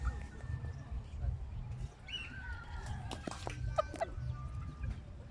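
Cockerels and chickens cluck and call in a short run of brief, fairly faint notes over a low background rumble, with some voices in the mix.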